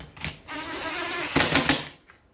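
A powered screwdriver whirs in short buzzing bursts, driving coarse screws into the plastic housing of a STIHL TS420 concrete saw during reassembly, close and fairly loud.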